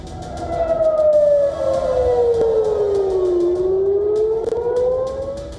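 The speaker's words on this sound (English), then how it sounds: "Air raid sirens wailed across central Israel and Jerusalem" A loud air raid siren in central Israel wails, its pitch sliding slowly down and then rising again, steady and sustained over faint background noise.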